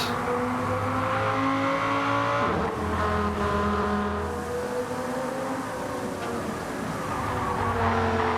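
Race cars in Gran Turismo 7 during a GT2 endurance race roar past at full throttle, layered engine notes rising and falling in pitch with a passing swell midway, loud and continuous with no talk.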